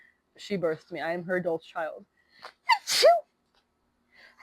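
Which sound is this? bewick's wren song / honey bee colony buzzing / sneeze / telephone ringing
sneeze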